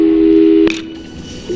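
A telephone call tone in the video game Portal 2: a steady tone that cuts off with a sharp click, followed by a quiet pause and a faint returning tone.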